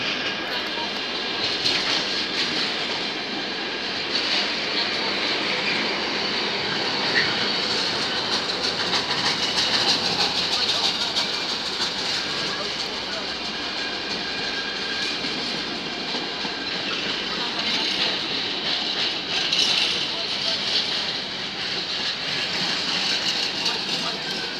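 A Freightliner class 66 diesel locomotive, 66594, runs through Doncaster on the rails with a steady, fairly distant rumble and faint wheel clatter that holds for the whole stretch without speech.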